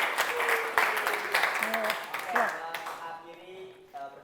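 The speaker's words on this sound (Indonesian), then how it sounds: "Kita berikan aplaus." Scattered classroom applause follows a student presentation, claps rising and fading over several seconds while voices talk underneath.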